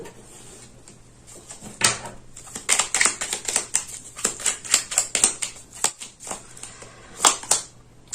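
Tarot cards are drawn and laid down on a table, giving a series of soft, close papery slaps and shuffling clicks in uneven bursts, fairly quiet.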